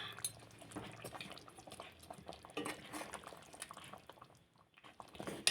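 Spoon stirring a homemade country-style chicken curry in a pot, soft irregular scraping and clinks with a light bubbling liquid texture, close and fairly quiet.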